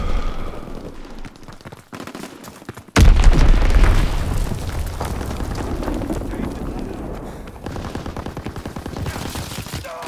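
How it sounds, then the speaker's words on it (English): An enemy bomb strike in the World War II shooter Call of Duty: WWII, a sudden loud booming blast after a stretch of gunfire that leaves a long rumbling roar, with faint game voices around it. "Enemy bomb incoming! Get to cover!"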